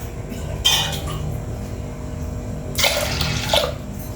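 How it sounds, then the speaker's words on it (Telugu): Water is poured onto lentils in two short gushing bursts over a low background hum, splashing close by. "2 వాటర్ వేసుకోవాలి"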